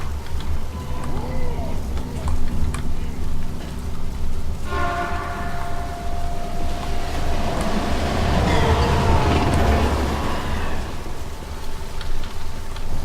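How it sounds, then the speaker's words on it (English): Trains in the video game Legendary rumble past in the distance with a steady low roar, a brief horn-like tone rising midway, while someone talks over the scene. "you can see some trains passing by down there"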